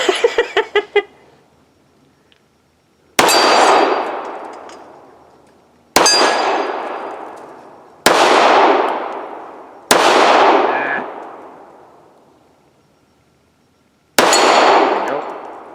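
A Kahr Desert Eagle 1911 C pistol fires five loud, sharp single shots several seconds apart, each trailing a long echoing decay, after a brief metallic rattle at the start.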